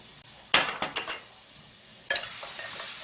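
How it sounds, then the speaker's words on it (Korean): Garlic sizzles in hot oil in a pan for japchae, a soft broadband hiss that swells near the end, with a few sharp clanks of a utensil against the pan earlier. "마늘을 넣어서 기름을 내세요"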